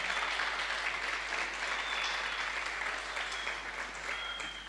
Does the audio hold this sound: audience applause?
yes